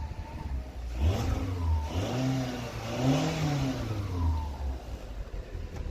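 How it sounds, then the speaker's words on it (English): A Skoda Octavia engine with about 81,000 on the clock revs up and down in two or three rising and falling bursts, close and fairly loud, with no talk. "Let's see what happens if I rev it"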